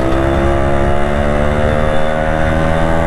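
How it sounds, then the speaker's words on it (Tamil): A Yamaha RX100 motorcycle engine runs loud and close, a steady rough drone with strong harmonic hum and no talk. "வண்டி சீருது"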